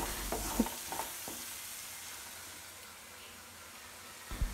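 Prawn masala with Kashmiri red chilli powder is stirred in a frying pan, giving a faint, steady sizzle with a few soft scraping strokes near the start and end.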